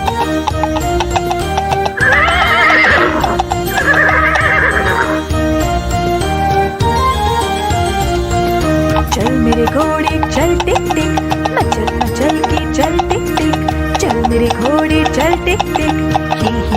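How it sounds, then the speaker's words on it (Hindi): A cartoon horse in a children's nursery rhyme whinnies twice early on, followed by rhythmic clip-clopping hooves and jingling bells over loud, bouncy music. "चल मेरे घोड़े चल टिक टिक"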